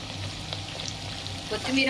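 Dry red chillies, green chillies, curry leaves and coriander crackle as a tempering fries in a pan, a steady close sizzle with a brief brighter spurt near the end and no talk.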